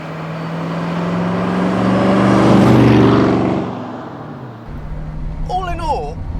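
A DeTomaso Deauville with a three-speed Ford automatic gearbox drones steadily while driving, a low engine hum that swells and fades, with someone talking over it near the end.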